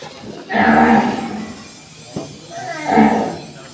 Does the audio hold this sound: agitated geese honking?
no